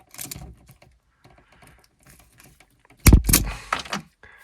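Wire strippers snipping excess 12-gauge electrical wire while installing a light bar, two sharp close crunching cuts after a stretch of quiet handling.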